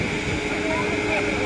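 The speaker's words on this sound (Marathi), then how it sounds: "लाईनीमध्ये आहेत ना सगळे प्लेन लागलेले आहेत तिथे एका मागोमाग एक. आता आवाज बघा फक्त." An airplane passing near the airport at the Jari Mari viewpoint in Kurla, with a loud continuous engine roar and whine that holds steady throughout a brief moment.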